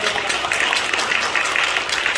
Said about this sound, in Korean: 나오실 때 힘차게 말씀을 사모하는 마음으로 박수로 맞아주시면 감사하겠습니다